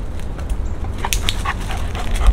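A dog in scent detection training for finding cannabis gives short, soft whimpers and whines over a rustling outdoor background, with no one speaking.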